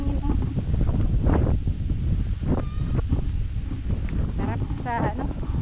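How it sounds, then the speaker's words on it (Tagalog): Strong wind roars and rumbles against the microphone continuously, while a voice speaks intermittently underneath. "Ang lakas ng hangin oh."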